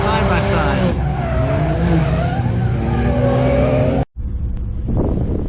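Corvette C8 race car at Lanier Speedway, its engine roaring loud and close with rising revs and a brief tire squeal; a speaking voice can be heard over the sound, which cuts out for an instant before the engine returns.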